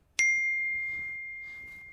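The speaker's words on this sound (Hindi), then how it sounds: "कॉइन DCX गो से सर नोटिफिकेशन थी" A single bright notification ding from the CoinDCX Go crypto app rings out sharply in a quiet room and its clear tone fades slowly over about two seconds.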